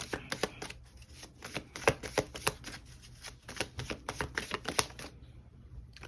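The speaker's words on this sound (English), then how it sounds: "Let's see what we get with the tarot cards." Tarot cards are shuffled by hand in quick riffling bursts, a rapid series of crisp flicking clicks in several bouts with brief pauses between, close and clear.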